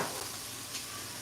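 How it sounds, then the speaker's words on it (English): Tortilla frying in hot oil in a pan on a stove, a steady soft sizzle and crackle, faint and continuous with no talk. "You can see, you can use the test here to see that it's starting to fizzle."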